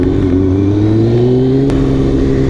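A Kawasaki ZX2R motorcycle engine pulls hard and close by with a rising whine as it accelerates through the revs. A short click is heard near the end, and no one speaks over the steady, loud engine.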